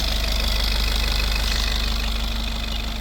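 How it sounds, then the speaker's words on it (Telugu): A 2019 Maruti Ertiga ZDi diesel engine idles nearby, a steady low throbbing rumble with a rhythmic knocking chatter and no voices. "ఇంజన్ సౌండ్ కూడా మీకు చూపిస్తున్నా సార్"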